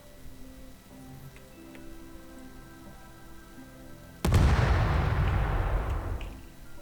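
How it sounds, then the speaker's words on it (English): A sudden explosion in the video game Astroneer bursts in loud and close after a quiet stretch, then rumbles and decays over a couple of seconds. "I'll demonstrate that here with this explosion"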